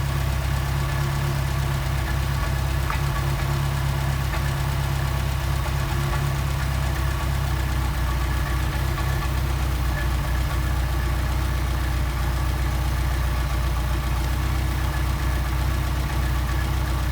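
An engine fitted with a Solex carburettor idles at a steady, continuous rumble with an even, knocking pulse, loud and close, with no talk over it.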